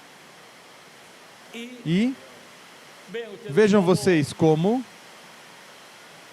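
Rain falls on a hot day as a steady, soft broadband hiss, while a person talks briefly over it.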